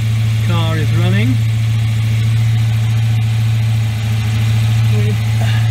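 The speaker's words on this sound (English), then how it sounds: "Car is running" A Volvo 940 engine idles with a steady low hum and constant mid-range drone, loud and near, while a voice speaks briefly over it.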